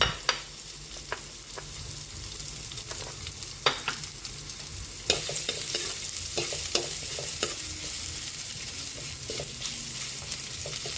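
Onions sizzle in hot oil for beef kare-kare while being stirred, a steady frying hiss punctuated by repeated clicks and scrapes of a utensil against the pan, close and without voices.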